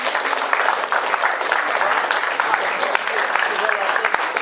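A crowd claps steadily and loudly in a dense, even burst of applause after a mentalism card trick at a live show in Chambéry.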